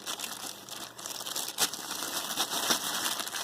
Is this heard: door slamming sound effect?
no